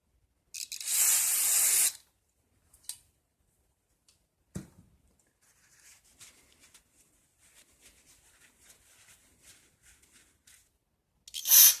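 Parts cleaner sprayed onto the mechanism of a 1966 Rheem/Califone 1450 record player: a loud, close hissing burst lasting about a second, followed by faint handling clicks and a second short spray hiss at the end.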